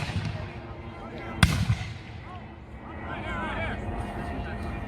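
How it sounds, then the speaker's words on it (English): A single loud musket shot rings out at a Civil War reenactment, one sharp crack with a short echoing tail, set against steady outdoor crowd murmur and distant background noise. "So you fire your musket and then you reload."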